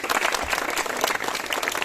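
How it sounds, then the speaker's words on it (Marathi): Dense crowd applause at a local neighbourhood meeting, loud and continuous throughout the short stretch. "सगळ्यांनी टाळ्या वाजून स्वागत करून अभिनंदन केलं"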